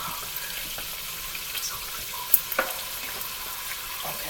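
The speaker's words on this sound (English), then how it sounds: "I'm going to put it in this colander in the sink" Cooked spaghetti and hot water poured into a colander in a sink, a steady close hiss of draining water with a couple of brief knocks partway through, no talk.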